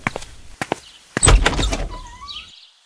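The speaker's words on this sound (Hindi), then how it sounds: "मैंने दरवाजा खोला तो क्या देखता हूं" A house door is opened with a few sharp clicks and knocks from the latch, then a heavy thunk and a swinging rattle, followed by a faint creak at the hinge.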